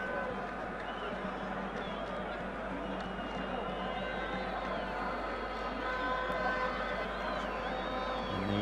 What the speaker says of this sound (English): the home crowd growing a little uneasy as their team remain behind in this tie